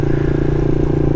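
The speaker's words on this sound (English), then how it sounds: "There's another motorcycle behind it." A small motorcycle, a Honda Monkey or Grom clone with an aftermarket exhaust, drones steadily close by near Savannah Wildlife Refuge, its loud buzzing engine note continuous and even.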